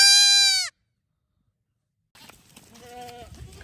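A goat lets out a loud, close bleat by an electric perimeter fence, then after a pause another goat bleats more faintly amid rustling.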